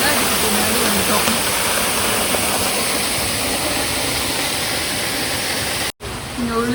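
Duden waterfall in Antalya roars steadily from behind the falling water, a dense, loud, continuous rush of broadband noise that holds for several seconds, broken by a brief dropout near the end.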